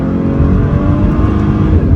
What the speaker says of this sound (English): As we go around the turn, you can hear the engine.